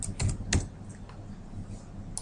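Typing a name on a computer keyboard while using accounting software: a few quick plastic key clicks close by, then lighter scattered taps over a quiet background.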